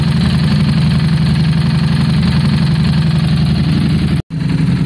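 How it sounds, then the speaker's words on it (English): A 2022 Harley Davidson motorcycle engine idles loud and close with a steady low rumbling throb, briefly cutting out near the end before resuming. "I don't wanna idle it any longer"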